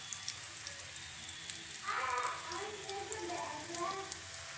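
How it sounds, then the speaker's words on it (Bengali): Rasabara fritters fry gently in oil, giving a faint, soft, crackling sizzle that continues steadily throughout. "এবার আস্তে আস্তে এগুলো ভাজা হবে।"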